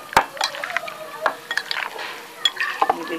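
Raw liver (kaleji) coated in spices and mixed by hand, giving soft, wet squelching and slapping sounds with occasional light clinks, close up and with no talking.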